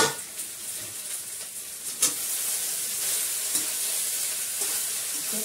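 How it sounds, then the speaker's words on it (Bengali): Bottle gourd cooks in a pan with a soft continuous sizzle while a spoon stirs it, giving a few light scrapes and taps against the metal, close and quiet with no talking. "একটু নাড়াচাড়া করবো, নাহলে তলা দিতে পারে লেগে টেগে যায়।"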